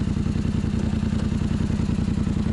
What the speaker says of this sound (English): let's go ahead and finish up this snow plow removal here on the